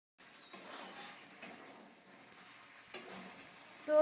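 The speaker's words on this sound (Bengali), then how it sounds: "এখন মাংসটা বানানো হচ্ছে, মাংসটা করছি, মাংসটা ভালো করে এখন কষাচ্ছি" Mutton being sautéed in a pan, a soft, fairly faint sizzle with a few clear scraping stirs at intervals and a clink of a utensil against the pan.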